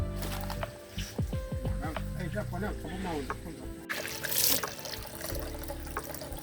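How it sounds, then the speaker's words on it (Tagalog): Running water from a municipal supply trickles and splashes steadily at laundry time, with voices talking over it throughout. "This is the water from municipal."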